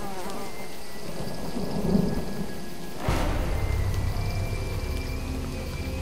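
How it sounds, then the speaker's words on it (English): Steady rain hisses throughout in the video game Jurassic Park: The Game, with a low rumble of thunder rolling in partway, the downpour growing heavier and denser afterward. "At least, the rain's easing up."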